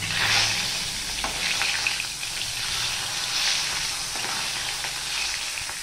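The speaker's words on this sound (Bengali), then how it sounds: "এবারে মাছগুলো আমি ভেজে নেব।" Vetki fish sizzles and spatters steadily in hot mustard oil in a kadai, a dense, continuous frying hiss with occasional sharper crackles, close and alone without talk.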